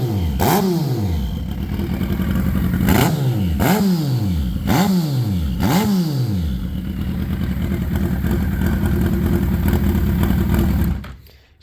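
A motorcycle running an MS3 plug-and-play engine management system idles close by with a throbbing note, blipped into several quick revs that drop back, then settles into an uneven idle with a recurring skip before cutting off, with no talking.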